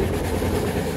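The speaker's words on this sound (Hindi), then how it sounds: "अब गाड़ी ने स्पीड बहुत अच्छी पकड़ ली है," An Indian Railways passenger train runs at speed on the Chhindwara to Gwalior route, a loud, continuous rumble and rattle of carriages heard from on board, with no talk over it.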